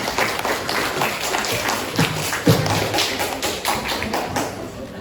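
Students at a school motivational seminar on time management applaud, a busy, moderately loud patter of clapping and taps with a few heavier thumps, crowd murmur beneath.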